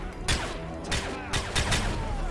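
Several sharp gunshots fire in Modern Warfare 3, spaced irregularly across a couple of seconds with short echoing tails, fairly close and loud against a quiet in-game background.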